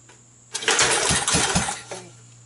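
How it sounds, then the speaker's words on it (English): A Kohler go-kart engine freshly fitted with a new carburetor, cleaned points and an open choke, pull-started cold: a quick cranking burst of sputtering mechanical noise lasting over a second, then dying back to quiet, close and loud. "pull the string to get through it, and well, I'm going to try it with the choke open."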